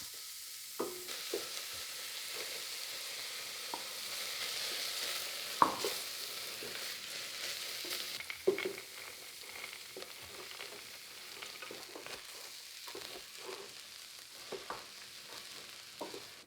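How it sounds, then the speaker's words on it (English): Onions sizzle steadily in a hot pan, a quiet continuous frying hiss broken by occasional stirring clicks and scrapes, with no one talking. "and when that is hot, I will fry the onions"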